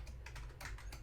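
Rapid typing on a computer keyboard at a developer's desk, a quick run of crisp key clicks, close and fairly quiet, no talking.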